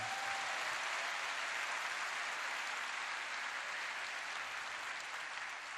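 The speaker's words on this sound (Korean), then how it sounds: "그 아이를 위해서 박수 한번 보내주십시오." A church congregation claps for a child at a Daniel prayer meeting, a steady, even wash of applause that sounds slightly distant and carries on alone throughout.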